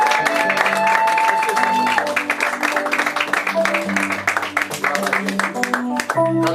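Congregation at a church graduation ceremony applauding and acclaiming Jesus, a steady dense clapping that continues throughout alongside music with sustained tones, a crowd close and loud.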